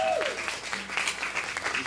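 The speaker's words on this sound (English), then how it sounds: "give him a round of applause" Concert audience applauding after a band song, a short burst of clapping with a brief whistle at the start, fairly close and steady for about two seconds.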